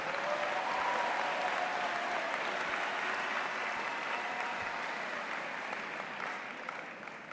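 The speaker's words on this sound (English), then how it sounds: "Please give yourself another round of applause." A large audience at a university business school commencement ceremony claps for the graduating class. The applause is a dense, steady roar of many hands that fades slightly near the end.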